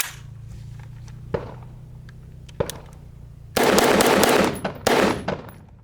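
A Bren rifle fires a few single shots, then a rapid string of sharp, loud bursts follows, the reports closely spaced and echoing outdoors at a range.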